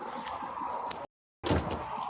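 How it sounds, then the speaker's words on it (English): A door opens or closes indoors during a casual live stream, a soft bump followed by a sudden dropout and a burst of room noise; no one speaks over it. "I heard the door."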